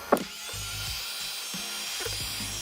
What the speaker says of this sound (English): we take our heat gun and being careful not to get the wire and the neon too hot, we're going to heat up